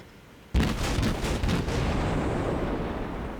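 A tier 6 Kriegsmarine cruiser Nurnberg fires armor-piercing shells in World of Warships, a sudden loud salvo boom that rolls into a long, rumbling decay with a few smaller follow-up blasts.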